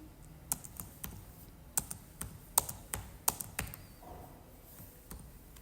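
Typing subject names such as English and Maths on a computer keyboard, a burst of quick, uneven key clicks close by, some strokes sharper than others, with no talking.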